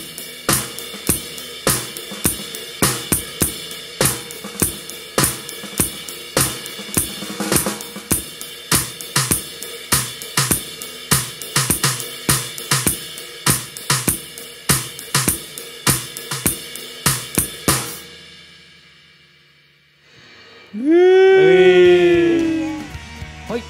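Full drum kit captured through the direct line signal alone, with dense repeated kick and cymbal hits in a steady groove that stops abruptly, followed by a brief silence and a wavering tonal sound at the end.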